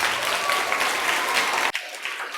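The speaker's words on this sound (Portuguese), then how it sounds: "Palmas então para vocês" Group of people applauding in a room, a dense burst of clapping that cuts off abruptly after under two seconds, leaving quiet room tone.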